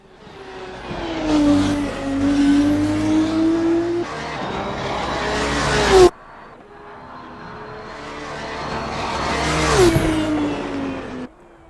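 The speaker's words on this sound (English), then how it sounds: "this one is the Turbo V6 currently being used in the Formula 2 series" A Formula 2 turbo V6 single-seater in Assetto Corsa, engine screaming close by as it climbs through gears, with an abrupt cut midway, then building again to a high peak before easing off.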